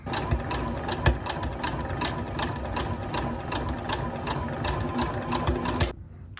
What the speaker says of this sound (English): I'm going to start stitching using the guide for the 5/8 line